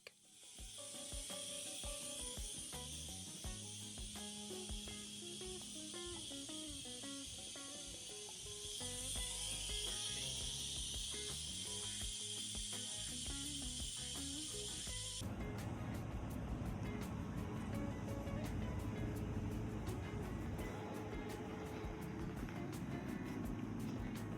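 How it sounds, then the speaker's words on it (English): A Brewtools 300 cold-side system fills a 20-liter keg from a bright tank with a steady, close hissing rush of flowing liquid and gas, growing broader and louder midway, set against a continuous musical background. "we're going to start with 114 liters and fill a 20-liter keg"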